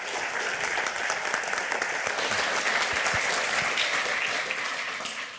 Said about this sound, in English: Give a big round of applause to Redbeard